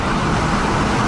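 Engine of a mk1/2 Ford Ranger fitted with an EGR delete kit, a steady, loud, close drone of motor and road-type noise filling a very brief moment with no clear rise or fall.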